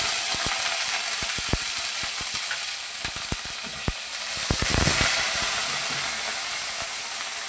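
Ghee sizzles in a hot pan with a steady frying hiss, broken by sharp clicking ticks and small pops scattered throughout, close and fairly loud.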